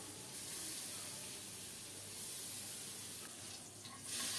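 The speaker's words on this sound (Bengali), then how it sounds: "রুই মাছের পিসগুলো লবণ হলুদ মাখিয়ে গরম তেলে ছেড়ে দিলাম।" Turmeric- and salt-coated rohu fish pieces fry in hot oil, giving a quiet, steady sizzle and hiss that continues throughout, faint and close with no talking.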